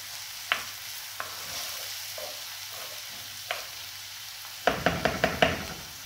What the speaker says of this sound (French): On mélange un petit peu avec l'huile d'olive.